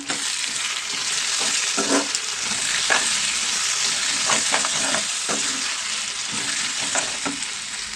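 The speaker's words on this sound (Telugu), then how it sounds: "ఇప్పుడు మనం బాయిల్ చేసిన ఈ రొయ్యలను కూడా దీంట్లో వేసేసుకుందాం సార్ అయితే కలుపుకుందామండి" Boiled prawns being stirred into a tomato and onion curry in a hot pan, a constant sizzle broken by repeated scraping strokes of a spoon at an irregular rhythm; no talking.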